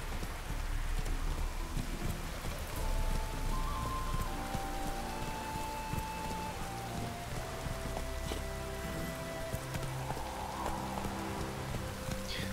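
Steady rain falls in the video game The Witcher 3, a dense, even patter on surfaces that continues throughout at moderate level, with faint tonal game sounds underneath and no talking.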